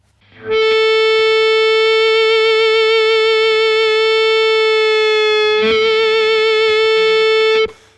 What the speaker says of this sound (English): So we know we've got plenty of distortion on the Gretsch now then.